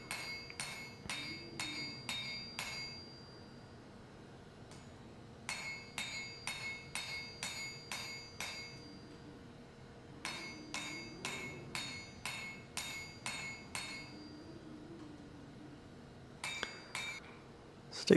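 Hammer blows dressing a forged wrought-iron Viking hammer with a welded face ring out in quick bursts of sharp metallic strikes, four rhythmic volleys separated by brief pauses, clear and close.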